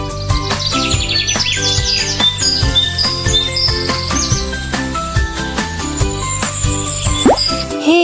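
Birds chirping in a children's Urdu alphabet lesson: bright, high tweets scattered through the first half, set over a steady bouncy music bed that carries on throughout.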